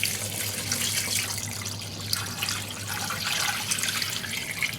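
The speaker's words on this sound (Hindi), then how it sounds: "पानी ऐड कर लिया हमने," Water poured into a pot of mutton pulao stock with chili powder and cinnamon sticks, a continuous close splashing gush that runs steadily throughout.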